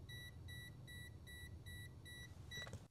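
Kaiweets HT118E digital multimeter's non-contact voltage detector beeping at a live wire: a steady, evenly spaced run of about seven loud, close, high-pitched beeps over a low background hum.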